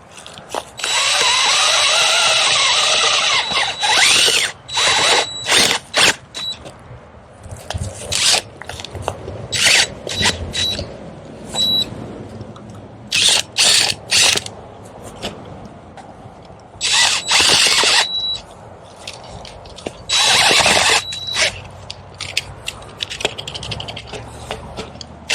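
A power auger bores into the ground and catches on roots, its motor whining in repeated loud bursts with grinding, rasping pauses in between.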